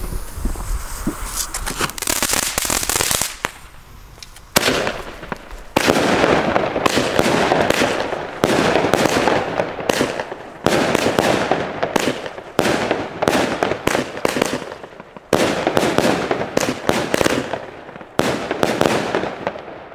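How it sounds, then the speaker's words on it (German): A Triplex Color Wave firework battery of 60 shots with red and green palms fires outdoors, loud repeated bursts and crackling launches coming in quick rhythmic volleys with short pauses between them. "wir schießen jetzt noch die Color Waves von Triplex"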